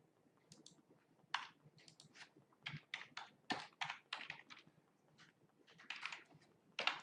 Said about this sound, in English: I'm just going to write Pruvit webinar.